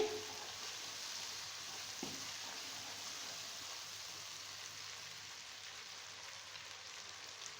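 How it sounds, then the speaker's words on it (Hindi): Spices frying in oil for Lahori chikar cholay, a Pakistani chickpea curry, giving a steady, even sizzle that hisses continuously with no talking. "अब हम इसमें अपने बाकी स्पाइसेस डाल देंगे। और इनको भूनेंगे।"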